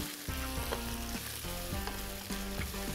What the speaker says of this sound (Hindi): ये जब तक फ्राई कर रहे हैं अदरक और लहसुन